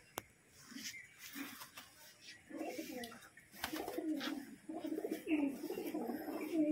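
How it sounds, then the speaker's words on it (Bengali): A female pigeon coos softly in a series of low, repeated murmurs, fairly quiet and close, with faint background noise. "এটা মাদি পায়রা।"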